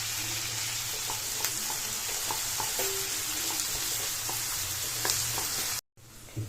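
Medium-sized chopped tomato sizzling steadily in hot oil in a pan, a continuous close fry hiss with small stirring clicks throughout, then a sudden drop to near silence at the end.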